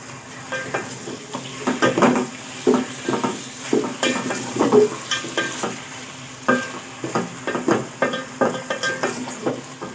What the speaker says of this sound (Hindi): इसको भी चिकन को भी हम 5-6 मिनट जो है अच्छे तरीके से भून लेंगे